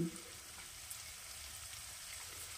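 A pinch of asafoetida sizzles in hot oil for a Bengali winter vegetable curry, a steady soft frying hiss that holds evenly throughout, close and fairly quiet with no talk.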